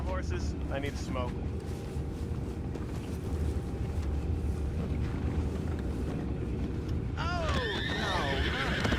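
Horses in Red Dead Redemption II neigh and whinny in a loud burst near the end, over a steady low rumble and faint clip-clop of hooves.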